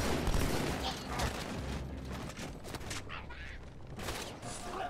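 Gunfire from the Halo 2 Anniversary video game, sharp bursts and rapid volleys of shots cracking throughout, loud and dense, with mechanical clatter mixed in and no talk.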